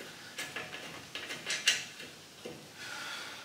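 Metallic clicks and a short ratcheting sequence as a bolt is fitted low on a rigid Shovelhead chopper during assembly, with quiet, close taps spread over a few seconds and a brief sharper clank in the middle.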